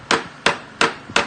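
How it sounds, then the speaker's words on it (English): A mallet taps lockouts onto an engine manifold with four sharp, evenly spaced knocks, close and loud, with no voices. "In order to do the lockouts, you're probably going to have to use a mallet."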